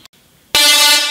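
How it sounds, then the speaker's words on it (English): After a brief near-silent moment, a Tesla coil pulsed 262 times a second bursts into a loud, buzzing sustained middle C tone, heard alone. "Turning it on and off at 262 times a second,"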